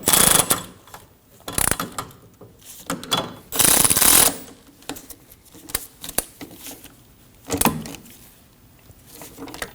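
A hand ratchet snugs down the hub bearing bolts on a Subaru Baja, giving several close, sharp bursts of clicking separated by short pauses.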